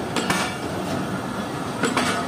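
Passenger express trains, the Bahauddin Zakariya Express and Shalimar Express, pass at Rahim Yar Khan railway station with a steady rumble, rattling carriages and a few sharp clacks of wheels over rail joints, loud and continuous, with no voices.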